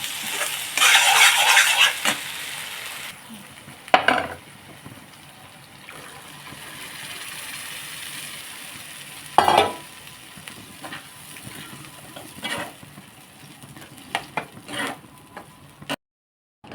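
Malvani masala sautés in oil in a pan, a soft frying sizzle broken by intermittent scraping stirs and a few louder clatters, close, with no voices.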